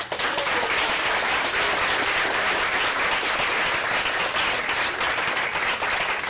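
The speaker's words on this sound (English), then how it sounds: "Huge round of applause." Audience at a fashion industry talk giving a big round of applause, dense continuous clapping from a crowd, loud and sustained for several seconds without talk.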